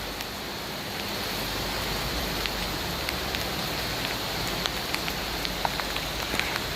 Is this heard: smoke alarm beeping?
no